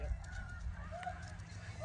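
Canada geese honking in front of a hunting blind with decoys set out, faint distant calls carried over a low steady background rumble, with no one talking.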